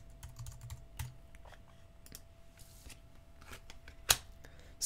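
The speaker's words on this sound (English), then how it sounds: "now I'm going to put in my password." A password is typed on a computer keyboard in quick, irregular bursts of light key clicks, close and fairly quiet, with one sharper louder tap near the end.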